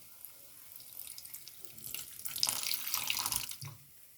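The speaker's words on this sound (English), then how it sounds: "Now I am adding some water." Water pours from a tap into a pan while paneer is cooked in an oil-free recipe, starting as a faint trickle and swelling into a fuller splashing stream before cutting off.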